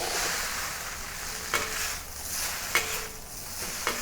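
Glass noodles sizzle in a hot wok as they are stir-fried, a steady frying hiss broken by a few soft scraping clicks of the spatula against the pan.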